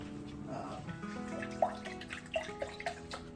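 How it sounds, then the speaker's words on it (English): More liquid is poured into a pot of stuffed grape leaves (yaprakis), giving soft, close trickling and a few scattered drips and light splashes over a quiet background. "I was going to put a little bit more fluid."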